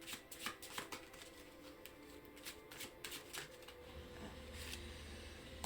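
Oracle cards being shuffled and laid out on a surface: faint, close riffling and flicking bursts, then soft taps as cards are placed, in a quiet room without talking.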